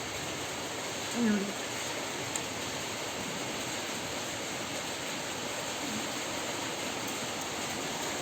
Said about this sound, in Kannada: ಭಾಳ ದಿನ ನಂತರ ಮಳೆ ಬಂತು ಬೆಳಗಾವಿಗೆ